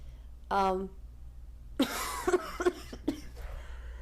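A short vocal sound, then a burst of several harsh, close coughs in quick succession, fairly quiet overall.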